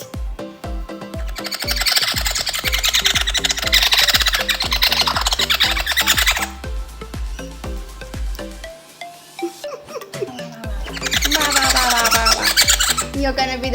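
A wild king parrot gives loud, harsh squawks and squeals in repeated bursts, close by, with a rhythmic low tapping underneath and a brief quiet gap midway.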